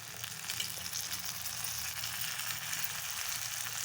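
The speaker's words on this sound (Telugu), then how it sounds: "టమాటా పీసెస్ వేసుకుందామండి." Tomato pieces frying in a pan for curry, a steady, fairly quiet hiss of sizzling oil throughout with no talking.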